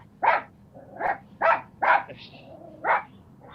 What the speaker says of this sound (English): Edward is very barky when it comes to Betty